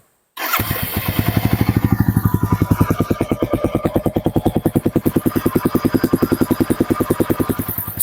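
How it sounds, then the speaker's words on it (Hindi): A Royal Enfield Goan Classic 350 motorcycle engine starts and settles into a deep, rapid thumping idle, loud and close, its exhaust pulsing steadily throughout. "अभी मैं आपको सुनाने वाला हूँ रॉयल एनफील्ड गोआन क्लासिक 350 का एग्जॉस्ट नोट।"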